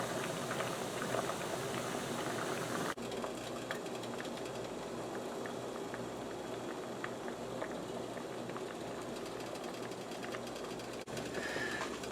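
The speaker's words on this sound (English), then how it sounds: "I want it to boil for 30 minutes because I want them to go a little translucent" Zucchini simmering in a pot of water, a faint, steady bubbling and burble that continues evenly throughout, quiet and alone without any talking.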